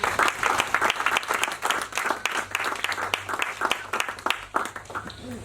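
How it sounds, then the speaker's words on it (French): Church congregation applauding during a sermon, a dense steady run of many hands clapping that rises and falls slightly, loud and close in a reverberant hall. "Acclame Jésus."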